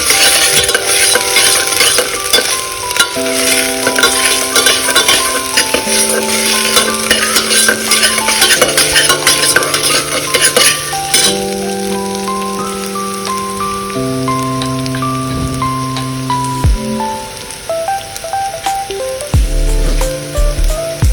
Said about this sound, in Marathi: अद्रक लसूण पेस्ट पण परतून घेऊयात.